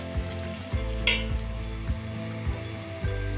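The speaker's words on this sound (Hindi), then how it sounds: "अच्छी तरह से इसको मिक्स करेंगे।" Kewra water being stirred into a biryani masala over heat, a steady sizzle with rhythmic scraping strokes of a spoon roughly every half second and a brief clink near the middle.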